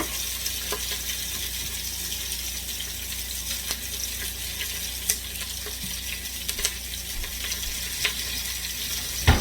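Onions frying alone in a pot inside a quick cooker while pot roast is being made, giving a steady close broadband sizzle throughout with small clicks and stirring scrapes.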